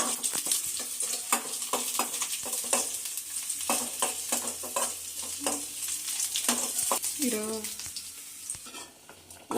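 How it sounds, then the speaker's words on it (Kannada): Raisins and cashews fry in ghee for a tempering, with steady sizzling and frequent scraping stir strokes in the pan throughout, close and fairly loud, no talking. "ಒಗ್ಗರಣೆಗೆ ತುಪ್ಪವನ್ನು ಸೇರಿಸಿ ಇದಕ್ಕೆ ದ್ರಾಕ್ಷಿ ಗೋಡಂಬಿ ಹಾಕಿಕೊಂಡು"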